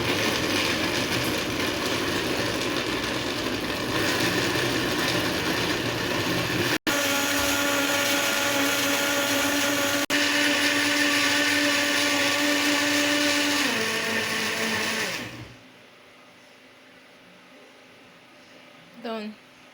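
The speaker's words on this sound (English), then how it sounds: "So just on your blender" A kitchen blender pureeing tomatoes with a little water for homemade tomato paste, a loud continuous whirring drone that shifts pitch slightly as it runs, then cuts off abruptly, leaving near silence with a faint clink.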